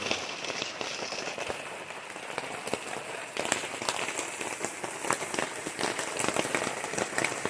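Steady rain patters down outdoors at a campsite on a cool morning, a dense hiss with scattered sharper drops tapping on nearby surfaces throughout.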